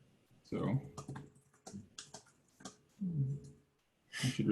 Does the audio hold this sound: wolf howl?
no